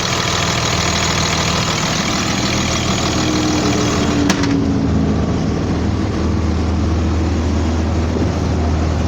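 A 2001 Blue Bird All American bus engine idles with a steady, close, low diesel rumble that stays even throughout, with no voices.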